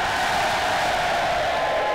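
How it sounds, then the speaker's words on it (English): A crowd at a tournament cheers and roars continuously, a loud dense wall of voices with no breaks. "cheer now!"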